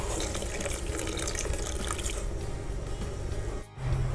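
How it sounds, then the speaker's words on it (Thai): Butterfly pea flower water poured into a dissolving agar mixture for a coconut jelly dessert, a steady splashing pour that runs unbroken and stops abruptly near the end. "แล้วเราก็ใส่น้ำอัญชันลงไปนะคะ"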